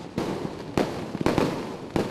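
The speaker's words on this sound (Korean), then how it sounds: "시민들도 시내 곳곳에서 악기를 쫓는 폭죽을 터뜨렸습니다." Fireworks and firecrackers go off at Lunar New Year in Beijing, with four or five sharp, loud bangs popping at irregular intervals over a crackling background.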